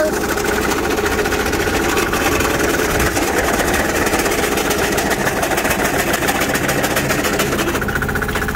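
A small 6-horsepower diesel engine on a transaxle project runs with a steady, continuous, close-up drone and a rough mechanical clatter throughout.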